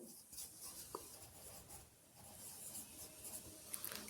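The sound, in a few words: writing on a board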